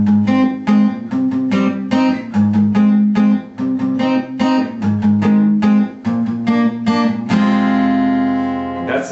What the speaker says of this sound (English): So together it all sounds like this.